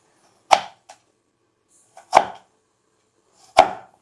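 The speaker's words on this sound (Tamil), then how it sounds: "ஈஸியாக இந்த ஹார்டாக இருக்கக்கூடிய கிழங்குகள் எல்லாத்தையுமே நறுக்கிடலாம், ஃபாஸ்ட்டாகவும் நறுக்கிடலாம்" Hard elephant foot yam is chopped with a kitchen knife in three sharp, separate strikes, each followed by a lighter knock, about one and a half seconds apart. The chops are close and crisp in otherwise quiet surroundings.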